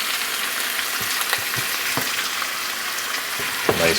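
Pork ribs browning in a greasy skillet, a steady loud sizzle and crackle of frying with a few soft clicks and scrapes from moving the meat, and no voices.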